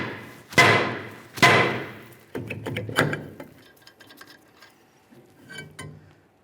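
A hammer strikes a Ford Ranger rear brake rotor to knock it loose: two loud sharp metallic blows, then a run of lighter taps and clanks with ringing, close up and with no voices.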